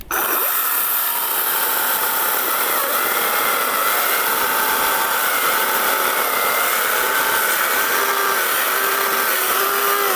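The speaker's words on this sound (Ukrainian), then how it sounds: "щоб ще раз спробувати пропиляти і серединку" Procraft PKA48Li cordless battery saw cutting through wood, a loud, close, continuous buzzing whine that holds steady throughout with slight pitch shifts as the blade works.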